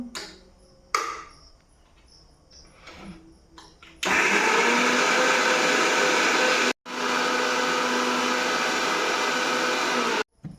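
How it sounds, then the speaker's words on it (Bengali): An electric mixer grinder whirs loudly and steadily, grinding green chillies, ginger and garlic into a coarse paste, with two bursts separated by a brief pause after quieter kitchen clatter at the start. "এবার এটাকে মিক্সিতে দিয়ে পেস্ট করে নেব।"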